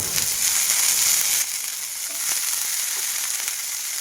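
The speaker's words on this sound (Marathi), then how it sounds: "ही जी मोड आलेली मटकी आहे ना ती फोडणीमध्ये टाकून घेते" Steady bright sizzling of sprouted moth beans dropped into hot oil tempering, loud at first then settling into a softer continuous crackle, no voices.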